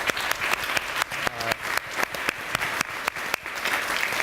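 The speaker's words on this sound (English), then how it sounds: "So let's give a big round of applause to our panelists." Audience applause for panelists at a smart-city talk, with sharp individual claps standing out distinctly in an irregular rhythm at close range, faint voices underneath.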